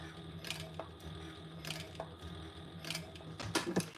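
A sewing machine stitches a durable bag seam, pivoting at a marked line, with short bursts of mechanical whirring and clicking over a faint steady hum, close and fairly quiet.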